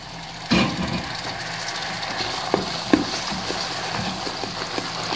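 Butter is added to hot caramel in a pan, giving a close, steady frothy sizzle with a sharp splash at the start and scattered soft pops and stirring knocks throughout.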